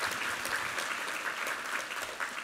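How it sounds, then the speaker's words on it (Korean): Church congregation applauding during a worship service, steady, even clapping from many hands at moderate distance, continuous throughout with no talk over it. "우리 하나님께 감사와 영광의 박수 올려드리겠습니다."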